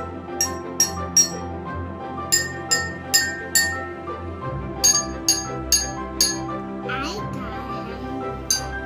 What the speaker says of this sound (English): the glass with the most amount of water makes the lowest note, and the glass with the least amount of water makes the highest note